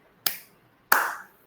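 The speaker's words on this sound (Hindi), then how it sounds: "3 ताली दिया है ऐसे" Two sharp, close hand claps about 0.7 seconds apart in a quiet room, each with a brief ringing decay, no talk.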